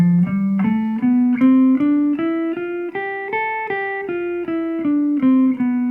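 Single electric guitar notes climb up a scale starting on D and back down at an even, brisk pace, each note plucked cleanly and close.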